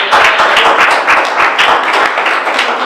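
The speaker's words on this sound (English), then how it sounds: "So give her a round of applause." Loud, close round of applause from a small audience at a presentation, dense overlapping hand claps in a steady rhythm without pause.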